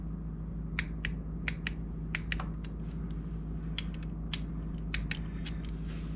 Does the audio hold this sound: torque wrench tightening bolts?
yes